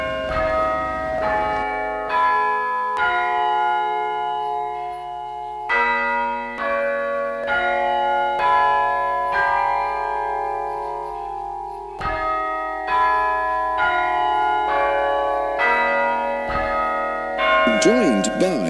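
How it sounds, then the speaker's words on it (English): Church tower clock bells ring out quarter chime tunes across an eight-bell octave, a long sequence of resonant overlapping strikes with lingering tones, loud and clear. "the tunes of the quarters and the halves and the three quarters, they stride about the eight bells of the octave in the tower here"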